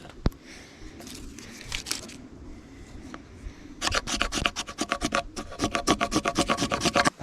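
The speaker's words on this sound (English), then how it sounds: "If you scrape the knife like that" A knife blade scraping wood into shavings during woodland bushcraft, heard as a quiet stretch followed by a close burst of fast, rhythmic, raspy strokes that carry on steadily to the end.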